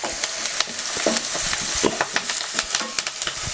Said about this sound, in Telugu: ఈ అల్లం వెల్లుల్లి పేస్ట్ పచ్చివాసన పోయేంత వరకు ఈ నూనెలో వేయించుకోవాలి